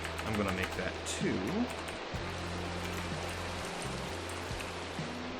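Rain in the video game Minecraft, a steady even hiss of falling rain running throughout at moderate level beneath a voice and low droning game tones.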